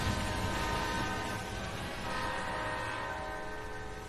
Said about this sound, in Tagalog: Ingay ah, daming train, be.